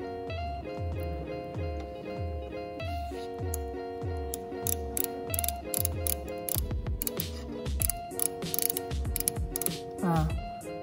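A micrometer's ratchet thimble gives a run of small, evenly spaced clicks during a measurement, then a burst of quicker, sharper mechanical clicking and rattling near the end, heard close up with no talking.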